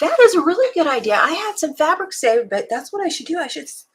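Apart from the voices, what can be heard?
No everyday noises stand out.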